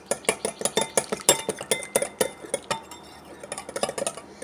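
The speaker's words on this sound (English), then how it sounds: "So you're going to have to whisk this pretty good" A turmeric face mask mixture being whisked in a bowl, giving a quick run of close, rhythmic clinks and scrapes against the bowl that ease off briefly midway and then pick up again.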